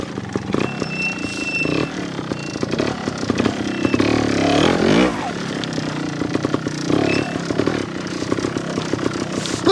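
A Honda Montesa 315R trials motorcycle rides in second gear with a close, rough engine burble that rises and falls with the throttle, mixed with clatter from the bike.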